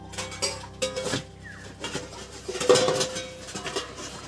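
A metal plate is handled in a home kitchen while dal is cooked, with light clinks, scrapes and knocks of metal on metal recurring irregularly over a low background hum.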